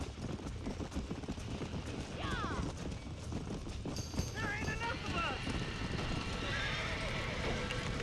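In a video game scene at a burning barn, a horse whinnies several times with shrill, wavering cries. Hooves clip-clop and general action noise run beneath, and voices talk over it.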